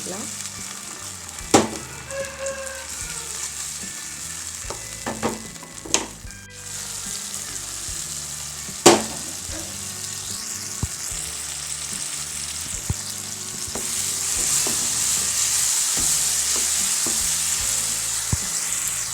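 Gentle sizzling of tomatoes sautéing in a pan for sambar, with several sharp clanks of a spoon stirring, the frying hiss growing a bit louder toward the end; no talking.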